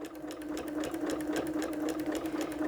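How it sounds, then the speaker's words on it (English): Sewing machine backstitching seams on a t-shirt rag quilt, a steady close mechanical chatter of rapid needle strokes running continuously throughout. "We backstitch."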